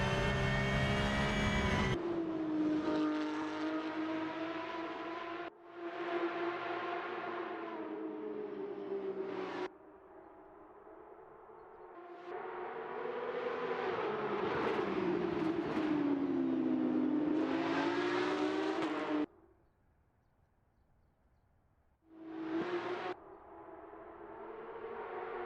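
Porsche GT3 RS race cars at Mugello circuit, engines screaming loudly as they pass one after another, rising and falling in pitch with gear changes, with a brief quieter gap between passes.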